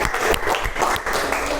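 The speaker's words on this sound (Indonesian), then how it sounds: "Tepuk tangan untuk kelompok Mbak Kartika" Dense, steady applause from a classroom group fills the moment, a continuous wash of many hands clapping at moderate loudness.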